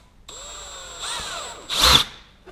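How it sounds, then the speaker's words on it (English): A power drill spins up with a rising whine as it drills pilot holes while fitting a fuel tank on a motorcycle, running in short close bursts and ending in a louder grinding burst into the material. "So we're just going to pilot the holes in."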